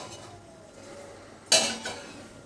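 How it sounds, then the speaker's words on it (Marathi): Fried shev for shev ladoo is moved into a pot. A quiet stretch breaks into a sharp metallic clatter and scrape, followed by a lighter second clink. "ते आपण एका पॉटमध्ये साईडला काढून घेऊया."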